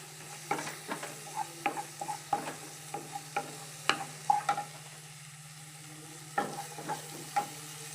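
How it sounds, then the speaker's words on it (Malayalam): Shallots sautéing in oil in a pan for a prawn and drumstick curry, with repeated sharp scrapes and stirs of a spoon over a steady low sizzle, close up and without talk. "അതിന് എണ്ണയൊഴിച്ച് ഉള്ളി വാട്ടിയാണ് ചെറിയുള്ളിയാണ് ഞാൻ ഉപയോഗിക്കുന്നത്"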